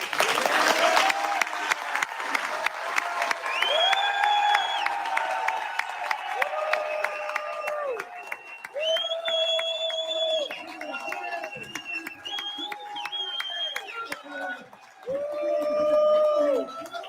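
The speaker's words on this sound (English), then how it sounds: "Start clapping, please." Audience clapping at a Republican gubernatorial debate in Michigan, a steady patter of many hands running under loud voices that talk over it almost the whole time.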